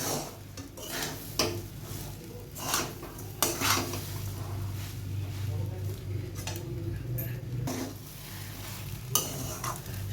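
Semolina stirs in a pan over the heat, with repeated scraping and clinking of a utensil against metal over a low steady sizzle and a constant hum, fairly close.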